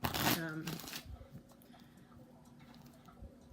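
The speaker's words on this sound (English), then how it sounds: "I'm going to shuffle here for a minute" Lenormand playing cards are riffled in a quick burst, followed by soft tapping and shuffling handling sounds, close and fairly quiet.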